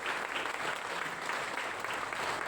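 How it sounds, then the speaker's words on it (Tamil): Audience applause at a poet's memorial tribute event rises as a dense, continuous burst of clapping with no voices over it. "அவருக்கு ஒரு நிறைந்த கைத்தட்டு கொண்டு"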